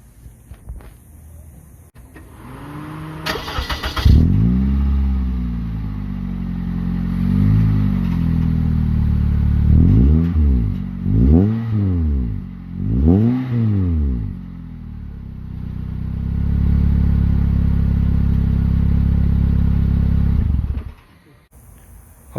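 A 2003 Toyota Matrix XR with a Magnaflow exhaust starts, idles with a deep rumble, then revs several times in rising and falling sweeps before settling back to idle and shutting off, loud and close.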